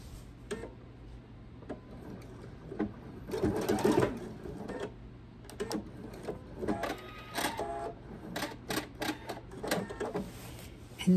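A sewing machine stitches a quilt's machine binding in short bursts of rapid mechanical chatter separated by brief pauses, including back-and-forth reverse stitching, heard up close.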